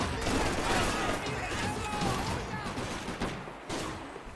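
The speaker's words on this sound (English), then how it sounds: "I'm hearing shots" Dense, continuous gunfire in the video game Max Payne 3, heard as a steady wash of overlapping shots at moderate distance, with a voice talking over part of it.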